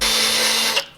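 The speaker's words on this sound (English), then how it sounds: "This is an eraser wheel." A power tool fitted with an eraser wheel grinds adhesive off the painted body of a 500HP Subaru STI, a steady high whirring drone that stops abruptly near the end as the wheel lifts away.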